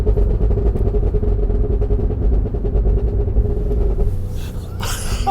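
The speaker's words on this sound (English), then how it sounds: "I'm going to come down through the gears." A Cadillac Escalade V's engine runs loud and steady with a deep continuous rumble as it comes down through the gears, the note shifting near the end with a brief rising blip.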